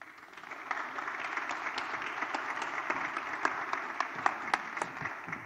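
Audience applause closing a French-language tech conference talk on electronics, embedded systems and AI R&D: steady, dense clapping from a seated crowd that swells in and holds at a moderate level, with sharp individual claps standing out.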